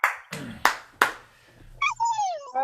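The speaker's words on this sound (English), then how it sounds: "give a nice round of applause to her and make her feel welcome" A few sharp hand claps from a small livestream audience, four distinct slaps close to the mic, followed by a higher cheering voice.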